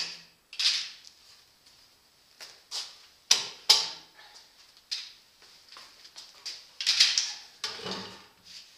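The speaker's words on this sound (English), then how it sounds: "So we take the clamps off." Clamps are taken off a glued wooden lathe stand, making a series of sharp, close clicks, clacks and metallic rattles at uneven intervals, with quiet pauses between them.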